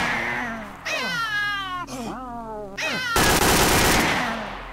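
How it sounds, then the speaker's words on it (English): A mutant cat in the video game S.T.A.L.K.E.R.: OGSE lets out several drawn-out, wavering meows close by, followed by a harsh, noisy burst like gunfire near the end. "What is that? Oh, it's another kind of cat."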